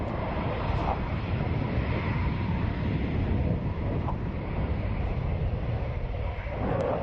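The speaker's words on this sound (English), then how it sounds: "The aircraft is now aligning for the high G turn." A JF-17 Block 3 fighter jet at a Saudi air show gives off a steady, loud roar of jet engine noise with wind buffeting the microphone, heard continuously and without speech.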